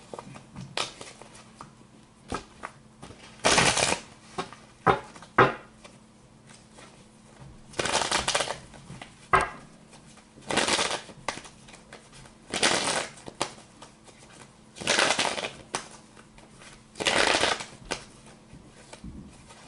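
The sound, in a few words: shuffling tarot cards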